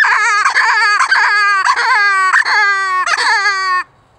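A BR 84 baby rabbit predator call is blown hard to imitate a rabbit in deep distress, almost hyperventilating: a loud, nearly unbroken wailing cry that pulses in quick, gasping surges before stopping abruptly.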